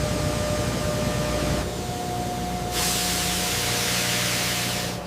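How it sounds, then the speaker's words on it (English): Steam hissing from refinery steam lines reaching design conditions, a steady broadband spray-like hiss that shifts in intensity partway through and swells louder toward the end, alone without voices. "Steam lines reaching design conditions."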